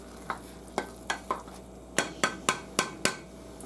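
Chicken cooking in a pan as water boils off, a steady low sizzle punctuated by about ten sharp utensil clacks against the pan, grouped loosely at first and then in a quicker run.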